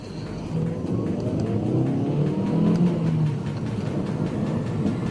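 Volvo C30 with a 1.6 engine driving along, a steady low engine drone with road rumble and a slight rise in revs midway, continuous and close from inside the car with no talking.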